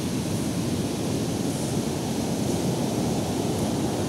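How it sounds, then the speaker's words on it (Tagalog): Large sea waves after Typhoon Auring roar as a steady, loud broadband wash of surf and wind, continuous with no talk. "Ito yung alon dito ngayon"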